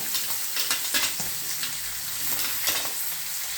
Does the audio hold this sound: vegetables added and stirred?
yes